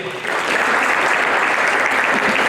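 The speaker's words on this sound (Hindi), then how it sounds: "जोरदार तालियां बजनी चाहिए" A crowd at an honour ceremony in Kanpur applauds steadily, dense clapping rising quickly and holding at a loud, even level throughout.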